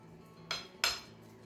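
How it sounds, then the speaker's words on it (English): Two quick, faint clinks of a metal spoon pressing a paprika-seasoned potato base flat into a casserole dish, with a short pause between them and no talk. "Flatten it all on the bottom of the casserole dish with the back of a spoon"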